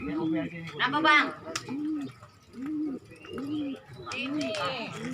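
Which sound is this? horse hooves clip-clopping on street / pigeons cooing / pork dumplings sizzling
pigeons cooing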